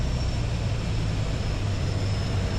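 Steady drone of a Piper Warrior's engine heard from inside the cockpit on approach, constant and loud with no talking.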